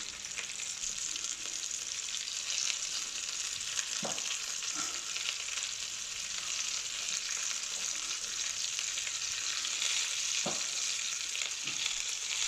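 Chorizo, onions and red wine sizzle steadily in a pan, a dense continuous frying hiss with a few soft utensil knocks and stirs.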